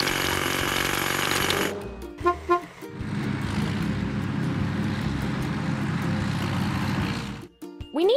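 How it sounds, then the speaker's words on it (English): A loud, sustained rattling hydraulic hammer in a truck video game pounds rocks continuously for several seconds, preceded by a brief burst of tones and a few short toots, then cuts off abruptly. "Let's crack the biggest rocks."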